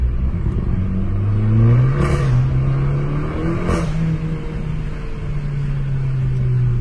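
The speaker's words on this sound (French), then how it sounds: "ce que j'aime, c'est quand on décélère, le son qu'elle fait." A small car engine hums steadily at low revs, its pitch sliding gently downward as it decelerates, with a couple of brief swooshes of passing air.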